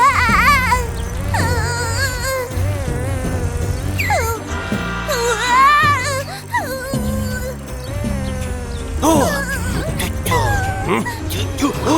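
An animated cartoon's bee buzz, a wavering, swooping whine close by, rises and falls among playful music and cartoon voices.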